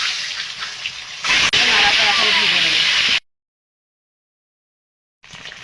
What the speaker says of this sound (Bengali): ভেজে নেব ডিমগুলো